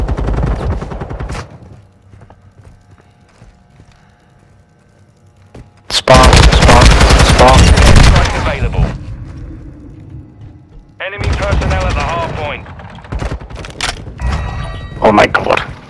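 Gunfire in the video game Modern Warfare 2, with loud bursts of automatic fire and booming shots in dense clusters between quieter stretches, heard close alongside players talking.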